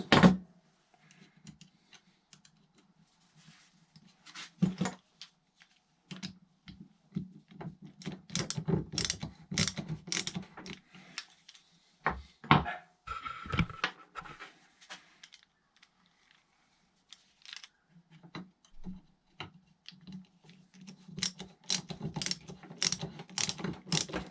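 A hand screwdriver turns screws into a wooden slingshot band tying jig, making bursts of rapid ratcheting clicks with pauses and tapping between them, close and clear with no talking.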